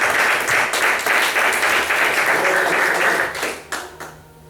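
A church congregation bursts into loud, dense applause that holds steady for several seconds, then thins into a few scattered claps and fades out.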